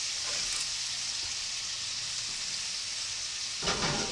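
Bacon frying slowly in a pan over a campfire: a steady, close, crackling sizzle throughout, with a brief louder flare of spitting near the end and no talking.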